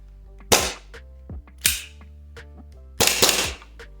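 A KJWorks KP-08 airsoft gas pistol fitted with an empty WE gas magazine fires three sharp, loud blowback reports up close, each followed by brief mechanical clacks and quieter handling clicks in between.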